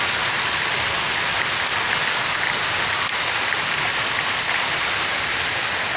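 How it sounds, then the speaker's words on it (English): A spring hail storm on Colorado's Rockies Front Range pelts the street, already layered with slush, as a dense, unbroken hiss of icy impacts that stays loud and constant throughout without any voices. "Alright, Colorado hail."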